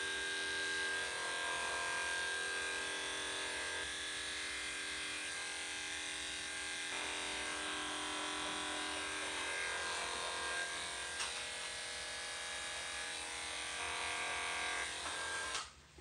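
Electric clippers trim a Chinese Crested dog with a steady, close, buzzing hum that holds level throughout, with slight changes in tone as the blade moves over the coat, before switching off at the end.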